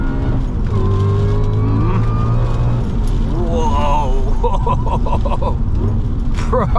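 A supercharged stage 3 Audi RS4 with a six-speed gearbox is driven hard, its engine droning loudly and its pitch rising and falling through gear changes, with excited talk over it from inside the car.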